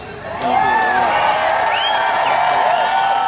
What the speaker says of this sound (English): I have never seen a crowd exactly like this one